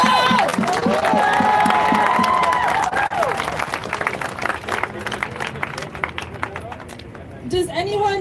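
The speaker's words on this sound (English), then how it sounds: "Give her a round of applause, y'all." Crowd at a street protest rally claps and cheers, a dense, loud wash of applause and shouting voices that continues across the whole stretch before tapering near the end.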